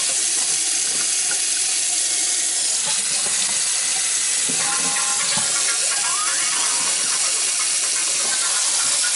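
Water gushes steadily out of a spout on a household plumbing line as it is turned back on, a loud continuous hiss and splash throughout.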